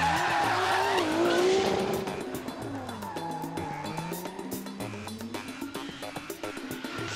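Drift cars at a D1 drift event skid through a run, loud sustained tire squeal and engine wail sweeping in pitch close by, the strongest burst at the start, then continuing at a steady, slightly lower level.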